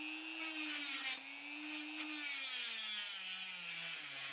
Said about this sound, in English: I'm sanding off the paint in the center.